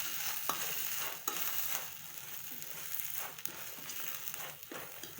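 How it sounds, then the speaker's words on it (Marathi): Turmeric being stirred into a moth bean curry in a frying pan, giving a steady close-up scraping and sizzling texture with a few sharper clicks of the spoon against the pan, without speech. "आता याला आपण छान असं हलवून घेऊया।"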